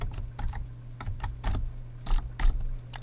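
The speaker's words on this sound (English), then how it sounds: "here we can type in our regression command" A regression command being typed in Stata on a computer keyboard: a dozen or so close, crisp key clicks in an uneven rhythm over a low steady hum, with no talk.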